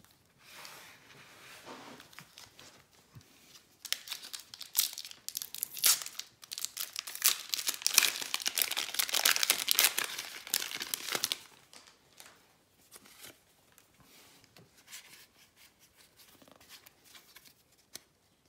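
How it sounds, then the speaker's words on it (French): Packaging of a Pokémon Elite Trainer Box from the Brilliant Diamond and Shining Pearl card set is opened with close, quiet crinkling, tearing and rustling that builds to a dense flurry midway and then thins to sporadic handling sounds. "Et on va passer à l'ouverture de la première ETB."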